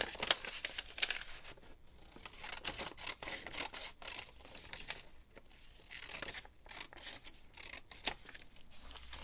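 Scissors cutting the white edge off a sheet of paper, a quiet run of snips and paper rustles and crinkles in uneven bursts, heard close up with no talking.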